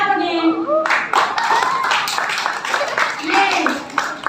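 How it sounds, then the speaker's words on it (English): An audience claps together in a dense burst of steady applause, loud and close, with children's and adult voices mixed in throughout. "clap again."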